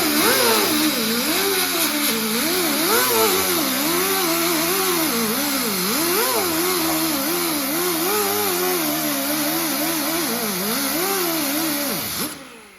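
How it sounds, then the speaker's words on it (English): A wire wheel on a power tool grinds scale and leftover weld spatter off welded metal, a loud, steady whirring drone that wavers in pitch as pressure changes, running without pause for about twelve seconds before spinning down at the end. "I'm now going to take a wire wheel and I'm going to remove all the scale and welding stuff"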